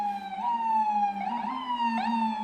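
On a New York street, an emergency vehicle siren wails loudly, its tone rising and falling in repeated sweeping cycles that stay prominent throughout.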